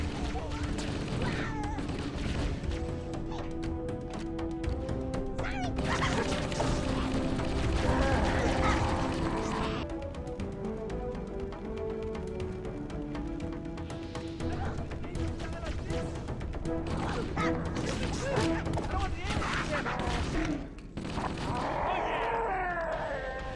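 Gunfire in the Halo CE video game, rattling bursts and shots sounding continuously through a dense, loud battle mix with music and shouted voices over it.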